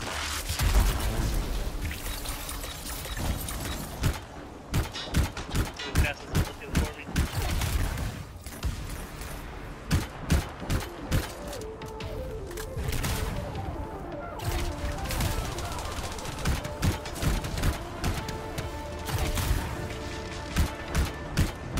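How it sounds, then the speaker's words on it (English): Loud, rapid bursts of gunfire and impacts fill a firefight in the video game Anthem, shots crackling in dense irregular volleys with booms and thuds mixed in. "just a wild ass gunfight, I guess"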